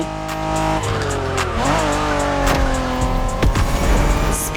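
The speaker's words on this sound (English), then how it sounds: "Are you familiar with the Honda you're driving?" Honda NSX from the 1990s driven in the racing video game The Crew Motorfest, its engine note rising and falling as tires squeal through a long skid, loud and continuous with no talk.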